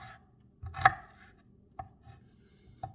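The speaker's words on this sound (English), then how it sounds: "And I'm just gonna cut this here like I would an onion." A kitchen knife chops scallions on a cutting board in a few sparse, crisp strikes, close and fairly quiet, with short gaps between cuts.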